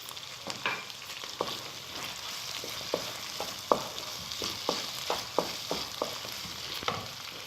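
Green chilies go into frying keema cooked with whole spices in Pakistani style, a steady sizzle in the pan broken by repeated sharp scraping knocks of a spoon stirring the mince, close up and with no talk.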